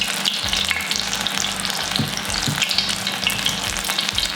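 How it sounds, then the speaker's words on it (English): French apple fritters bubble and sizzle in hot frying oil, a busy, crackling hiss with small pops and a brief clatter as they are turned, close and steady throughout. "let's just turn these beignets over as they're cooking"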